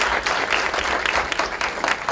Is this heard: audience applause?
yes